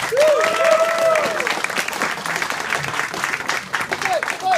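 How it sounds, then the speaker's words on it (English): Audience applause and cheering at a furry convention show at Midwest Furfest, a dense broadband crowd wash with a voice or whistle-like tone riding over it at first, steady and fairly loud throughout. "Give Xander the blue round of applause."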